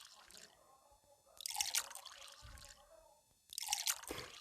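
Tea is poured into cups at a home table in two short bursts of splashing liquid, each about a second long, with quiet room sounds between them.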